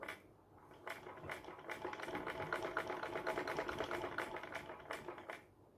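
Sewing machine stitching fabric, a fast, steady mechanical clatter of the needle running for several seconds, faint and close, with a brief start and stop at the ends and no talking.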